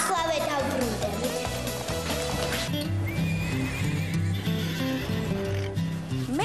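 Horses on a ranch whinny and their hooves clip-clop steadily, heard under lively music with a voice talking throughout.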